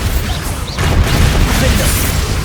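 Spell blasts from Confringo and Bombarda in Hogwarts Legacy, a close crashing boom partway through followed by sustained rumbling impact noise, with game voices over it.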